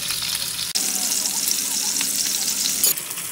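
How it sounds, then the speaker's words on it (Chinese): Hamachi (yellowtail) fish collars fry in a crowded pan with a steady, loud broadband sizzle, a brief tap or clack near the start and another near the end. "煎三塊咧"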